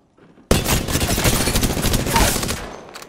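Rapid Hemlok rifle bursts from the Apex Legends video game, loud and close, a dense run of overlapping shots that starts abruptly and carries on for about two and a half seconds before cutting off.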